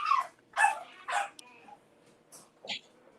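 Dogs barking indoors, a string of about five sharp barks at irregular intervals with short pauses between, moderately close and clear.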